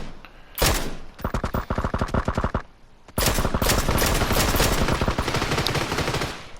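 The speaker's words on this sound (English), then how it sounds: "other people will kind of get into pretend gunfights with you" Automatic gunfire in the battle royale game PUBG, loud and close: a short opening burst, a steady rapid string of shots for about two seconds, a brief pause, then a long dense continuous volley to the end.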